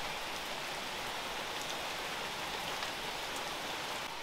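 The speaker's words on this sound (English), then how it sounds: "Oh, it's pouring rain." Heavy rain pours steadily, a dense continuous hiss of drops drumming on surfaces close by, with no voices.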